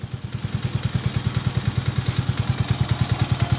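A Honda TMX125 Alpha motorcycle engine converted to 175cc idles close by with a steady, even low thumping pulse and some mechanical clatter. No one speaks.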